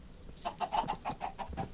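Blocky farm chickens in Minecraft cluck in a quick run of about eight short, mid-pitched clucks, close and fairly soft, with no talking over them.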